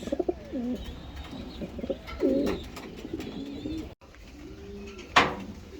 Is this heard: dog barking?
no